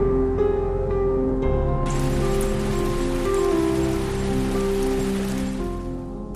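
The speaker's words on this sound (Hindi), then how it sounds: "ये बादल बनकर एक समय के बाद धरती पर बरसे होंगे।" Heavy rain starts abruptly and pours down as a dense, even hiss of drops striking a surface, with a faint steady musical drone underneath throughout.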